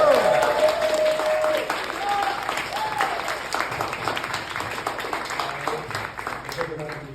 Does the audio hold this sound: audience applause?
yes